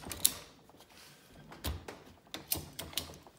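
Ratchet strap being cranked tight on a homemade coil spring compressor: a few sharp metallic clicks and clunks spaced irregularly, close and quiet, with faint creaking between them.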